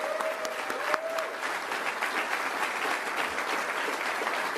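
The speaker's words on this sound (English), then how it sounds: "Give her a round of applause." Audience applause, a steady wash of many hands clapping at moderate loudness with a few sharper individual claps near the start, filling the hall after a name is called.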